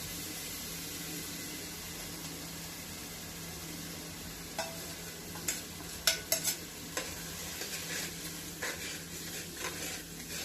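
Paste of cumin, ginger, cloves, peppercorns and garlic being stirred in a hot pan, a quiet steady sizzle with scattered scraping clicks of the spoon in the second half, no voices.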